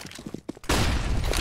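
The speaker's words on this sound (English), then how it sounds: "Throwing flashbang." A flashbang grenade goes off in Counter-Strike: Global Offensive, landing as a sudden loud broadband burst that sustains a harsh, noisy roar to the end after a stretch of quieter game sounds.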